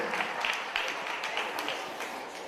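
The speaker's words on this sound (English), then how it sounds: "give Sister Aries a round of applause" Audience applause for Sister Aries at a Brooklyn comedy show, a dense and steady patter of many hands clapping over a couple of seconds with no break.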